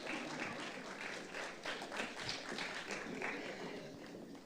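Audience applause at a Ghana Journalists Association 77th anniversary symposium, greeting the vice president before her opening remarks: steady, dense clapping from a crowd that holds at an even level throughout.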